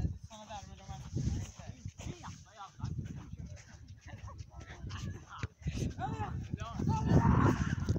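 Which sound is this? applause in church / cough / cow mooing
cow mooing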